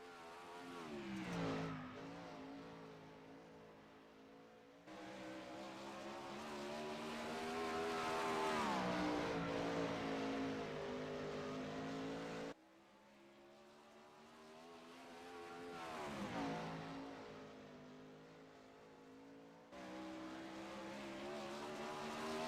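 Wingless 360 sprint car running a solo time-trial lap on a dirt track, its engine roaring loud and continuous with rising and falling pitch as it accelerates down the straights and lifts into the corners.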